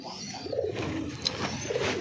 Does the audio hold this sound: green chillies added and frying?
no